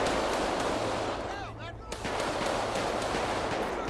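Steady bursts of automatic-sounding gunfire crackle from a player's weapon during a GTA 5 police patrol shootout, loud and nearly continuous with a short dip, voices talking over it.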